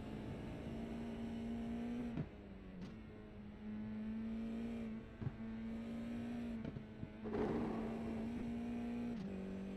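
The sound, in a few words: open-wheel race car engine in racing sim game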